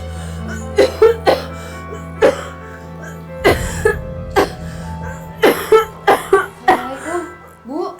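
A woman coughs repeatedly in short, harsh bursts, some clustered in quick pairs, with a steady low hum beneath that drops away partway through; the coughing grows more frequent toward the end.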